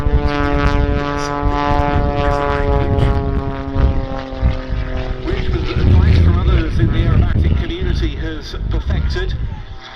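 A Pitts S-25 muscle biplane with a propeller engine performs snap rolls at the Duxford summer air show, its loud droning engine sustained throughout and surging in pitch during manoeuvres while a commentator talks over it.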